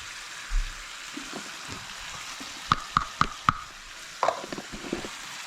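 Curry base and spices stirred in a sizzling pan, a steady frying hiss with a few close spoon scrapes and clinks against the pan, no talk.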